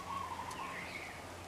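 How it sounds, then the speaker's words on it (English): Birds call near a lychee tree with unripe fruit, a steady outdoor chorus of faint chirps and whistles drifting at moderate distance with no talking. "Oh man. Birds."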